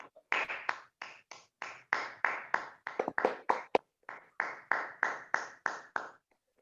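A Toastmasters club meeting audience claps in sharp, separate hand claps, a rhythmic patterned applause of roughly two dozen distinct strikes with a brief quick flurry midway, clear and close with no talking.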